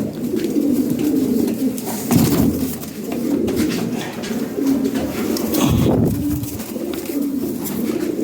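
Pigeons coo close by in repeated soft, throaty phrases, one after another with short breaks between.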